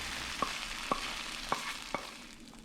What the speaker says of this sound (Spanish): ahora es tiempo de agregar los vegetales sofritos